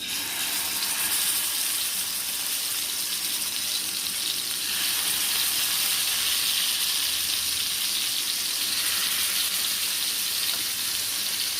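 Steady, loud sizzling of chicken pieces frying in hot oil, a continuous crackling hiss with no voices.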